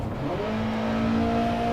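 A rally race car engine revs up in a driving game, a rising, steady drone that climbs in pitch over a couple of seconds, loud and close with no voices.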